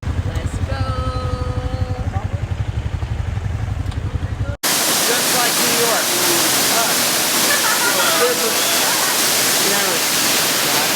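La Fortuna waterfall in Costa Rica pours with a loud, steady broadband roar of falling water heard up close, following a brief opening stretch of a different, lower sound.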